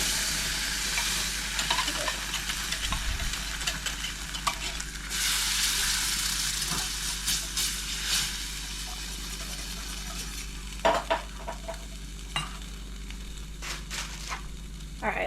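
Canned tomato sauce poured into a hot pan on high heat, a steady close sizzle with scraping stir strokes and clinks of a utensil, some bursts louder toward the end.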